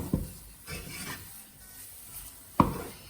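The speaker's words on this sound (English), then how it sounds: "But keep stirring it so that it doesn't get burned just from the heat of the pan." Besan halwa with jaggery being stirred in a pan, a spoon scraping and rubbing against the metal in slow intermittent strokes with a few sharper knocks, close and quiet.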